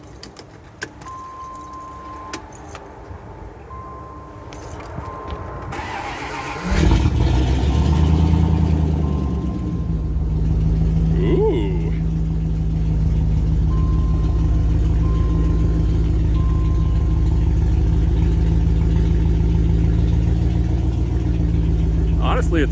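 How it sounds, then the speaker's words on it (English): Keys jangle in the ignition before a 1998 Dodge Dakota with a Cherry Bomb exhaust cranks and fires up, settling into a loud, steady, rumbling idle close by, with a short exclamation from a person. "haven't had it started in a few days, so let's see if she'll start up."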